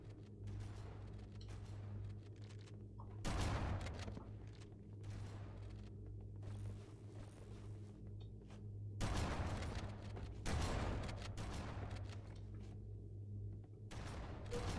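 Heavy shotgun blasts boom in Halo MCC multiplayer, a few loud spaced shots standing out over a low game hum with smaller clicks and thuds between them.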